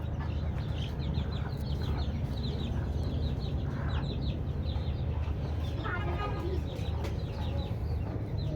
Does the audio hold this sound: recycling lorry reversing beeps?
no